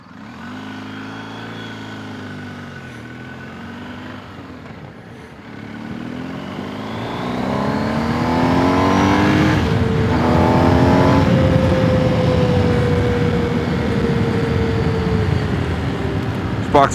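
A BMW R1250 GS Adventure motorcycle rides on trails: the engine drones steadily, then climbs in pitch as it accelerates and holds a loud, close roar with wind noise.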